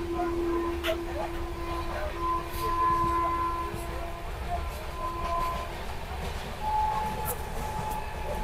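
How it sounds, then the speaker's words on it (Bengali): Soon after leaving Kolkata, a train heading for North Bengal rolls steadily with a low continuous rumble and some rattling heard from inside the carriage, along with a few faint tonal squeals and muffled background voices. "তো ট্রেন ছেড়ে দেওয়ার পর কিন্তু খুব সুন্দরভাবে ট্রেন টানছে।"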